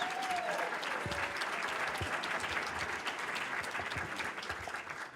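Steady, moderately distant applause from an audience at a congressional town hall in San Juan Capistrano, an even wash of clapping lasting about five seconds with a few louder nearby claps.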